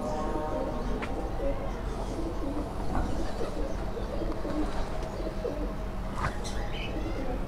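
Pigeons coo on a rooftop in Karachi, soft repeated throaty calls mixed with occasional chirps and background noise, while someone talks now and then.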